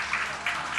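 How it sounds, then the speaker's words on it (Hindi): An audience claps together to welcome guests at a Jain religious gathering, a brief dense burst of applause with faint speech mixed in. "आप लोग एक बार ताली बजाते हुए स्वागत कर दें"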